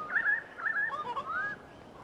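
Parrots call in the snowy Australian Alps in winter: a few short, bright, chirping cries in two quick bursts, then a longer warbling call, fairly close and clear over quiet air.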